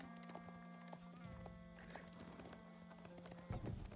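Horse cavalry in an Age of Empires match, with steady clip-clopping hooves and a neigh amid busy game noise, fairly faint and continuous over about four seconds.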